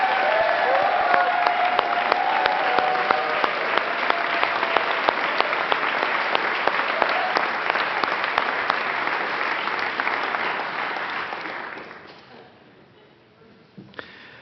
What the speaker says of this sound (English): I'd also like to ask for one more round of applause for Marilyn